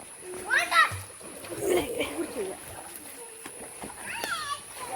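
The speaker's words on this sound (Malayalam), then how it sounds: "ഇതാണ് കുളം കുട്ടികൾ കുളിക്കുന്നുണ്ടല്ലേ" Children bathing in a village pond, with light water splashes and a few bright childish shouts in the near distance, mixed with adult speech and outdoor ambience.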